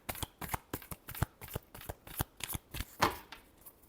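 Tarot cards are shuffled in quick, crisp bursts, about a dozen close riffling snaps in a fairly even rhythm, with no voice over them.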